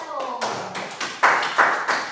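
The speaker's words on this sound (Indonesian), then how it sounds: "beri tepuk tangan dulu pada kelompok 1" A classroom group is applauded after a voice speaks briefly, followed by a handful of sharp, separate claps spaced irregularly, close and fairly loud rather than a full sustained round.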